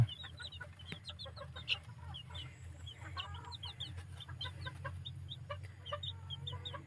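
Thai bantam chicks cheep and cluck in quick, high chirps scattered throughout, over a low steady hum from heat lamps in the brooder.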